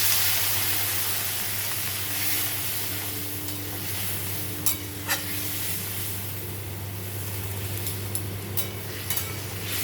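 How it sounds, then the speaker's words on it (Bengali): Prawns cooking in a pan after water is poured in, a steady low hiss and bubbling with a constant hum beneath, and a few brief clinks and scrapes near the middle. "চিংড়ি মাছটা দিয়ে দেবো। জল ঢেলে দেবো।"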